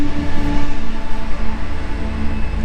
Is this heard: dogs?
no